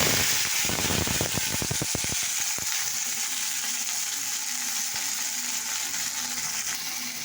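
Chopped onion dropped into hot oil in a pan, a loud crackling sizzle at first with sharp pops, then settling into a steady softer frying hiss for several seconds.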